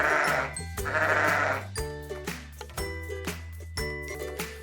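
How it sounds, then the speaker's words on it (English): Sheep bleating in a series of loud, wavering calls, one after another with short gaps, each cry strong and close with no voices. "It makes the sound baba."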